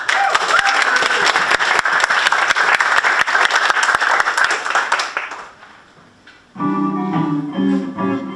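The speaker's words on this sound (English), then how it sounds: "give them a warm round of applause" An audience claps warmly for a jazz combo at the Auckland Jazz & Blues Competition heats, dense steady applause that fades after about five seconds before the band begins playing.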